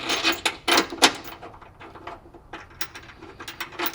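Ratchet clicking while a bolt is tightened on a Polaris Ranger 570 rock slider bracket, quick close bursts of mechanical clicks at the start followed by softer, sparser ratcheting.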